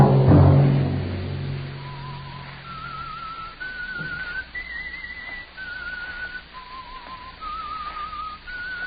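A lone whistled tune, the eerie signature melody of the old radio drama The Whistler, moves in clear held notes that step up and down in pitch after a brief low rumble at the start, with no one speaking.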